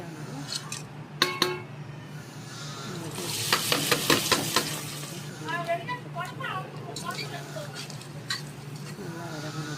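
Whole cinnamon and cloves fry in hot oil in a pot for mutton gravy, giving a steady sizzle with bursts of stirring clatter and scraping, while a person talks over it throughout.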